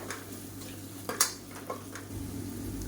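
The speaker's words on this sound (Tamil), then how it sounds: "இதையும் சேர்த்து நல்லா வதக்கி விட்டுக்கலாம் நல்லா எண்ணெய் பிரிஞ்சு வரணும் பச்சை வாசனை போக" Masala with ginger and garlic is stirred and sautéed in oil in a pan for soya chunk curry, a low steady sizzle broken by a few sharp metallic scrapes and clinks of a spoon against the pan, with no voices.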